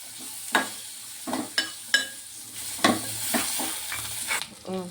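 Roasted lentils and coconut pieces sizzle in a hot pan, with a ladle scraping and stirring in several distinct strokes over a steady frying hiss, close and fairly loud.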